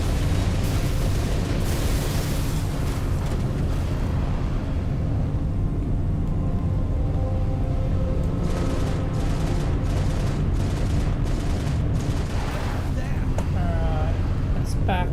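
Gun turrets firing and exploding in a roleplay video game, heard as a steady, dense wall of rumbling blasts and booms with voices talking over the din.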